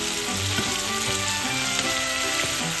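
Frozen upo squash frying with shrimp in a hot pan, a loud steady sizzle with crackling spatters and occasional stirring clatter, continuous and close.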